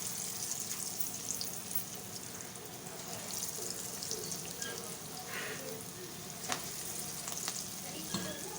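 Pakora batter dropped by hand into hot frying oil, giving a steady, dense sizzle throughout with a few brief crackles and no speech.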